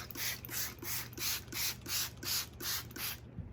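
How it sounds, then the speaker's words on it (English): Fungicide is sprayed from a hand pump bottle onto a freshly cut Cattleya orchid division, with about eight evenly spaced hissing bursts in a steady rhythm, close and alone. "I'm just gonna spray it all."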